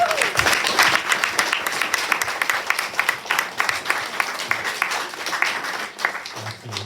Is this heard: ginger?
no